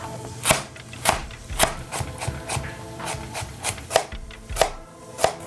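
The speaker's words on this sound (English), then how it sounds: "Now we have our carrots. We're gonna remove the tops." Carrot tops being cut off on a board, a series of sharp, evenly spaced knife chops and scrapes, close and fairly quiet, with no voices.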